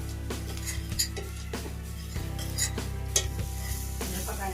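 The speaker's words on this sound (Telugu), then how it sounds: "స్పూన్ వరకు సాల్ట్ వేసుకొని కొంచెం కలుపుకోవాలి" A pan of green chilli dal with salt, stirred with a spoon against the metal in repeated clinking scrapes over a steady close sizzle and a constant low hum.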